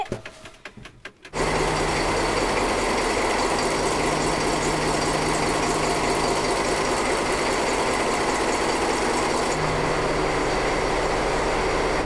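An engine idles loudly and steadily, a close, continuous mechanical drone with rapid rhythmic knocking that starts abruptly after a brief quieter moment.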